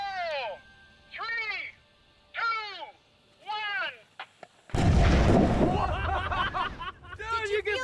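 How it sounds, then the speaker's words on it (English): A 50-pound TNT charge detonates 30 feet underwater and bursts into a loud, deep, rumbling roar that lingers for several seconds. Shouted voices counting down come before it, and voices carry on over the tail of the blast. "That was 50 pounds of TNT, 30 feet deep."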